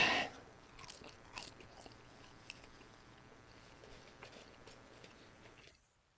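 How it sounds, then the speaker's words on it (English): Someone munching on dinner close to the microphone, with soft, irregular chewing and crunching clicks spread over quiet background noise after a louder opening burst. "I'm munching because I was silly and did not eat dinner sooner."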